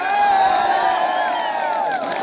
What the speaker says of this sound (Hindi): आपकी तालियों का शोर जाए जयपुर से लेकर दिल्ली तक की।